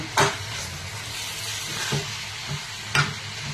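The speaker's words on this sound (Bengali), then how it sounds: "এবার এটাকে আলতো হাতে একটু নেড়ে নিলাম" Grated carrots for gajar halwa are gently stirred in a pan with a low, continuous sizzle. A few distinct scrapes of the spoon against the pan stand out at the start, in the middle and near the end, all close up.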